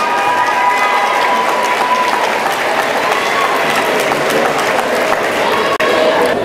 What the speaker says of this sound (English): Stand up. Give them applause.